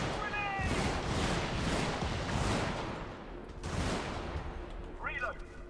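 Dense, loud gunfire and explosions fill the Helldivers video game battle, with rapid overlapping bursts, booming impacts and brief electronic chirps, and a player's voice mixed in.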